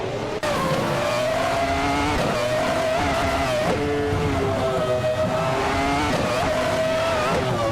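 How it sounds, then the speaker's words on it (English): Race cars in a video game launch off the line at the Golden Port circuit, a classic 1996 McLaren MP411 leading the pack, engines droning loudly and steadily with rising and falling pitch and a brief tire squeal. "the race just kicked off at Golden Port, and leading the pack is Okinabaka in a classic 1996 McLaren MP411"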